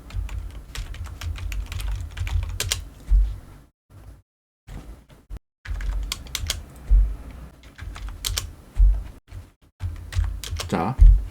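Fingers type on a computer keyboard to enter values into database table columns, with quick close clatters in bursts broken by short pauses.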